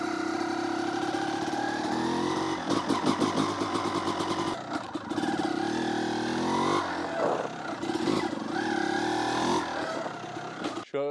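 A Honda CR motocross motorcycle engine runs nearby, a loud buzzing two-stroke idle broken by repeated sharp blips of the throttle that rise and fall in pitch, with brief dips between revs.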